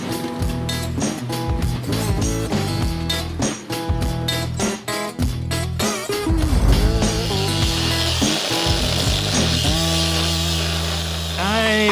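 Grinder and air hammer working on a dually truck chassis to strip off rivets and extra frame brackets, with rapid rhythmic hammering bursts, gaps between them, and later a sustained whining grind, loud and close with a voice briefly audible.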